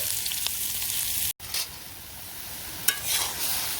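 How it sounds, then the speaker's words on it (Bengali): Onions fry in a pan for cauliflower, giving a steady close sizzle broken by a sharp brief cut and a couple of stirring scrapes. "ফুলকপি ভাগের জন্য পেঁয়াজ মিনিট ভাজতে দিছি"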